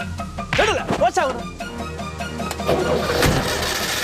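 A vehicle engine cranks with a couple of quick starter whirs, then catches and settles into a steady rumble, with voices talking nearby.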